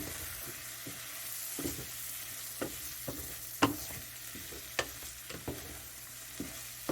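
Herbs and onions fry quietly in a pan for a tomato soup, a soft steady sizzle broken by a series of sharp spoon clicks and scrapes as they are stirred.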